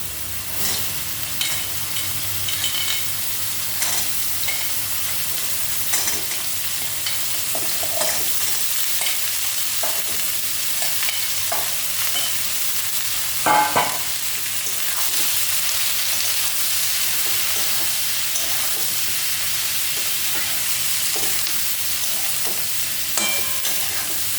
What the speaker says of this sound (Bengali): তেজপাতা দিলাম, তারপরে লাউগুলো দিয়ে দিচ্ছি